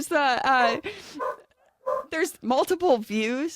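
A small dog barks and yips several times in short bursts, close by, mixed in with ongoing conversation between people.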